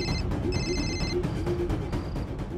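A telephone rings in a house, with repeated electronic ring bursts over a steady background hum, loud and close.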